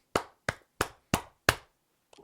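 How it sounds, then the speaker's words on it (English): Five sharp hand claps in a steady, evenly spaced rhythm, close and clean against silence, with a faint brief sound trailing after. "We'll give you a few claps."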